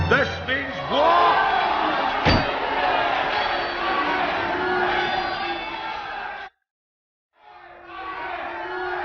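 Rival Scottish clans shouting and brawling in a bedtime-story retelling of Disney's Brave, with a roaring crowd, battle cries and a sharp metallic clang, cut off abruptly into a brief silence before the din resumes.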